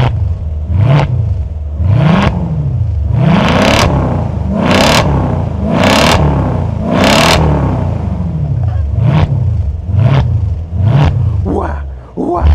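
A warmed-up Mercedes SLK AMG engine is revved in a steady series of sharp throttle blips, each rising and dropping back, loud and near, with a rough, raspy edge.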